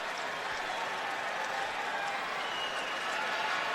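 The US Open 2010 semifinal crowd applauds Djokovic with steady, even clapping that is fairly faint and distant, with no breaks.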